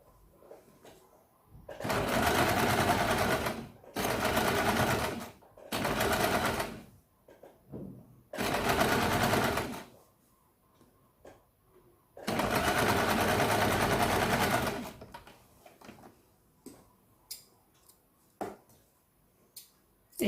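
A sewing machine stitches a strip of a katori blouse in several loud, close bursts of rapid whirring, separated by quiet pauses with small handling clicks and cloth rustles.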